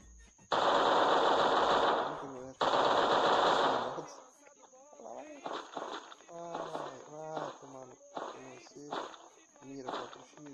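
Automatic gunfire from a bot in the PUBG Mobile video game, two long rapid bursts of shots near the start, followed by quieter in-game sounds and someone speaking.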